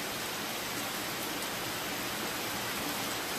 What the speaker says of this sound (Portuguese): E chuva, e chuva, chuva.